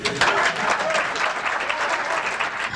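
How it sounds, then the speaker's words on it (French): Loud applause fills the space, many hands clapping at once in a thick, continuous wash of sound. "Il était supposé avoir des applaudissements"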